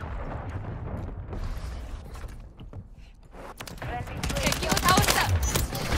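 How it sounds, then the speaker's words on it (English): Cruise missile strike in Modern Warfare 3, a dense burst of blasts and crackling gunfire that builds louder over several seconds, with a voice talking in the mix. "Friendly cruise missile approaching target."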